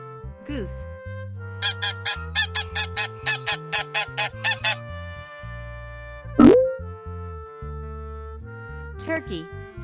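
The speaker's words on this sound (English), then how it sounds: "Goose." Goose honks in a repeated series of short, loud calls over a steady musical backing, with one sharper cry midway and a brief spoken word near the start and end.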